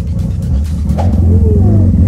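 A Mazda RX-7 FC rotary engine running after months of sitting, giving a loud, close, low rumbling drone with a slight rise in pitch partway through, steady and uninterrupted.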